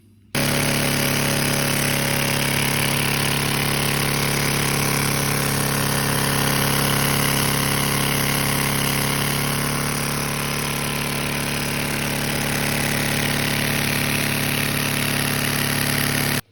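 A Lego vacuum engine runs continuously, giving a dense, steady rapid chugging drone that stays loud and close throughout with no talk over it.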